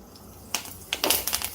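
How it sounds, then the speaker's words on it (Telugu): Fresh curry leaves hit hot oil while tempering for an idli fry snack, setting off sharp, close crackles and pops that burst in quick irregular clusters after a quiet sizzle. "బాగా చిటపటలాడుతున్నాయి చూడండి"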